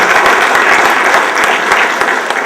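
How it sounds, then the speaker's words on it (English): Steady, loud applause from an audience in tribute to former New York State Controller Ned Regan, a dense unbroken wash of clapping with no voices. "Give a round of applause"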